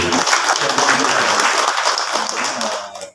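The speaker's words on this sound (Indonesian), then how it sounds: "Tepuk tangan buat beliau." An audience at an Islamic religious gathering breaks into dense, loud applause that holds steady and then tapers off quickly at the end.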